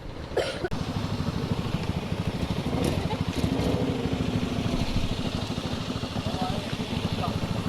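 A Zontes 368G motorcycle being parked idles with a steady low rumble close by, with a short sharp knock near the start and faint voices mixed in.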